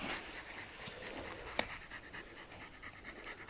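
Heavy, fast dog panting close by, a continuous rhythmic huffing with one brief click in the middle.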